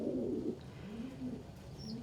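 Low, throaty pigeon coos from a nest box, one drawn-out phrase followed by gentler rolling coos, close and fairly quiet with a faint chirp near the end.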